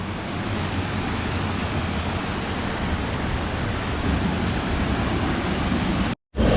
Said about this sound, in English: I wonder if this is the 3rd waterfall.